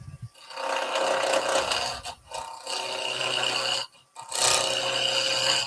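A skew chisel cuts lime wood spinning on a lathe, giving a steady, close rasping hiss that runs in long sustained passes broken by brief pauses as the tool lifts away.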